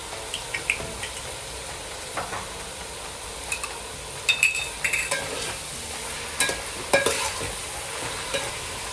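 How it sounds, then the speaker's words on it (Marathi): Rice being stir-fried with green chili sauce for homemade fried rice, with a soft continuous sizzle broken by repeated light clinks and scrapes of a utensil against the pan. "आता ग्रीन चिली सॉस टाकून परतून घेऊया।"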